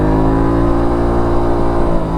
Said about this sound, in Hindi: अभी हम लोग फर्स्ट गियर में हैं, ठीक है, first gear. Let's go to 6000 RPM